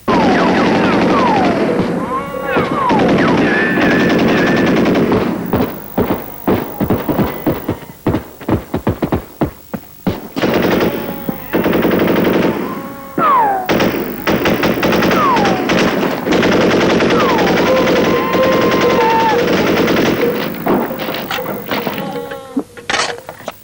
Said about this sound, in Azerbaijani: ateş açmağa kim əmr verdi